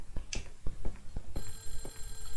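Telephone ringing in the retro horror video game Clock Tower: a loud, repeated electronic bell pattern of sharp rings in quick succession, played alone with no voices.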